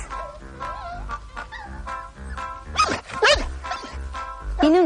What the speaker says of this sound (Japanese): 犬がいます。